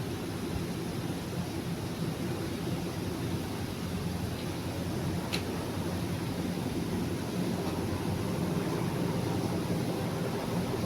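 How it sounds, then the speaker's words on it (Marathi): A steady, loud mechanical roar fills the whole stretch, like a helicopter passing overhead, constant throughout with no voices. "आमचे इकडून हेलिकॉप्टर चाललं आहे"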